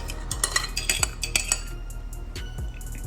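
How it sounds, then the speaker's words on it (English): Brussels sprouts being stirred in a pan with beef tallow, a utensil scraping and clinking against the pan in an irregular series of close, fairly loud taps over a low steady hum. "Then stir it around."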